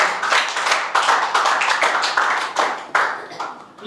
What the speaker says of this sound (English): Clap for Nidhi, everyone.